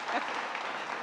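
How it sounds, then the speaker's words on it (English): An audience at a startup networking event in Wichita claps briefly in a dense, moderately quiet burst of many hands. "so yeah, clap."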